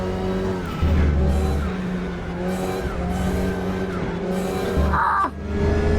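Race car tyres skid and squeal under braking in a racing video game, a steady loud engine drone running throughout with a sharp screech near the end.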